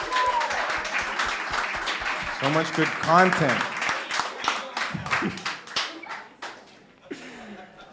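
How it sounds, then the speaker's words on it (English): Festival audience applauding filmmakers and musicians after a Q&A at a music video screening, dense clapping throughout with a host speaking over it and the clapping thinning toward the end. "Let's give a final round of applause to the great filmmakers,"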